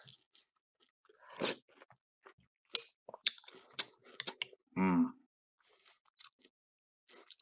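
Crunchy chewing of cereal up close, irregular bites and clicks mixed with soft mouth noises and a brief voiced sound, fairly quiet with pauses between.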